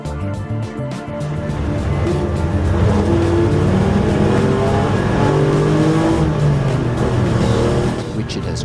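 A small BMW race car on its first lap of the Nürburgring roars up through the gears, engine revving loudly and continuously with tyre and wind noise, and a voice speaking over it.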